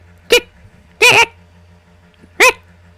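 A player imitates a dog's barking for a character named Dongo during a tabletop game session, three sharp, separate barks spaced across a few seconds, close and loud over a quiet background.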